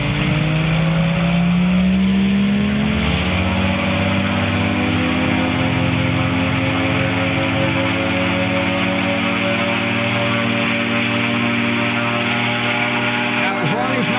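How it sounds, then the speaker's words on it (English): A small airplane engine runs at full power before takeoff, a loud, steady drone whose pitch climbs in the first few seconds and then holds evenly throughout. "I'm going to do a full acceleration"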